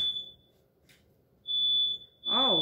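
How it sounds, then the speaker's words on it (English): Smoke alarm going off in a home kitchen while biscuits bake in the oven: sharp high electronic beeps, one long tone, a pause, then another, with a voice starting up at the very end. "Oh, Lord, there goes the smoke alarm."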